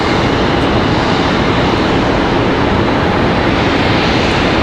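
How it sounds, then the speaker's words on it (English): An American Airlines Airbus A321 departing Charlotte Douglas International, its engines giving a steady, loud broadband roar that holds without a break throughout. "A321 off for departure."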